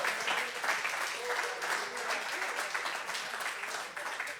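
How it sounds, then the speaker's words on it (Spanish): A church congregation gives a steady round of applause during an evangelical sermon, a soft, continuous mass of clapping heard at moderate distance, lasting throughout. "Dele un aplauso a Cristo."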